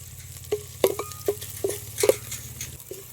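Stirring and sizzling in a mutton pan on a wood-fired clay stove as crushed garlic goes in, with a steady low frying hiss and a handful of sharp scraping stir strokes, no voices.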